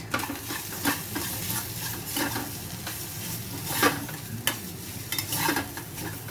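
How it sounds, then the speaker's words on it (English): Potato masala being stirred and mixed with turmeric, red chili powder and salt in a pan, a steady scraping stir with light sizzling and a few sharper clinks of a spoon against the pan. "And then you just mix it."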